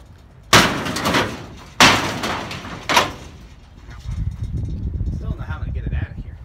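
Three heavy sledgehammer blows smash into a shed in steady succession, each a loud, close crack with rattling debris, followed by someone talking.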